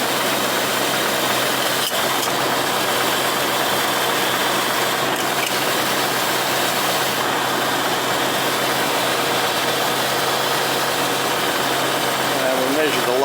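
Rolls-Royce Silver engine with a Hydramatic automatic transmission idles steadily in a workshop, a constant low mechanical hum with faint clicks running throughout, while someone talks over it.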